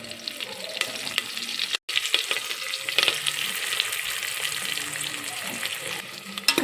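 Curry leaves sizzle and fry in hot oil with cumin and crushed garlic, a close, steady crackling hiss with sharp pops, one abrupt brief dropout, and spoon stirs scraping the pan.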